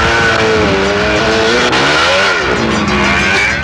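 Cars speeding by in heavy city traffic, a loud continuous roar of engines with rising and falling pitch as vehicles pass close by.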